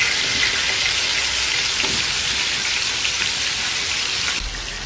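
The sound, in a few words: broccoli frying in oil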